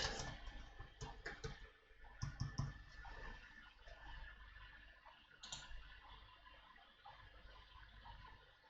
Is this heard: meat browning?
no